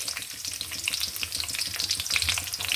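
A bay leaf and two green chilies fry in hot oil for a restaurant-style vegetable bhaji, a dense, close, steady crackling sizzle with no pauses and no voices.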